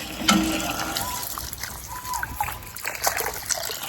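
Water trickling and splashing from a village borewell while someone drinks from it, an uneven close dribble with small splatters and occasional faint voices in the background.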